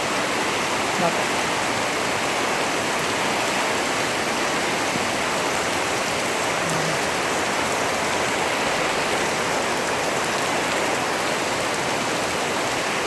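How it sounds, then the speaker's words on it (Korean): Heavy rain pours through the night in Phnom Penh during the dry season, a dense, loud, unbroken hiss of water drumming on surfaces with no pauses, and nobody speaking. "무슨 우기도 아닌 건기에 이렇게 비가 많이 오는지 모르겠습니다."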